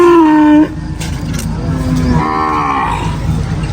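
Cattle at a livestock market during loading, with a loud close moo at the start followed by further drawn-out lowing calls, over a rumbling background that sounds like a vehicle engine.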